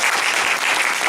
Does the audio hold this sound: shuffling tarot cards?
no